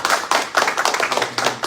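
Small group at an annual general meeting claps nearby in a brief burst of irregular, close hand claps lasting under two seconds, without talk.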